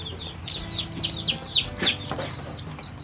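Young chicks in a brooder peep in high, repeated chirps while chickens cluck softly nearby in a busy, continuous chatter.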